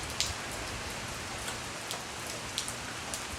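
Rain from a California storm falls in a steady, soft hiss, with a few sharper drops ticking now and then and no one talking.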